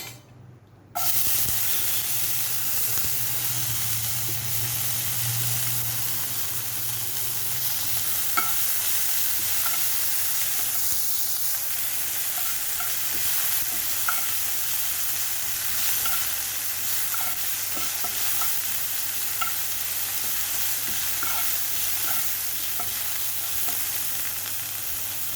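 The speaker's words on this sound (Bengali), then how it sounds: "এবার এর মধ্যে দেব আমি পেঁয়াজ লঙ্কা কুচি" Chopped onion and green chili fry in refined oil for a chicken spring roll filling, a steady close sizzle with soft stirring clicks running alone throughout.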